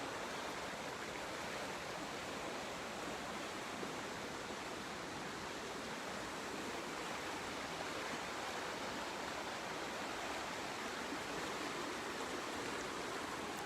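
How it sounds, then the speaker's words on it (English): A river in Galway rushes in a continuous, broadband roar of running water, steady and close, with no voices. "a little bit of the running river."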